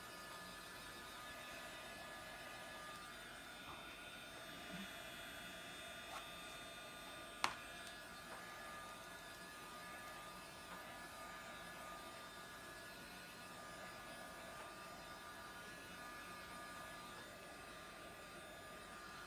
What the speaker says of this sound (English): This is just a embossing heat gun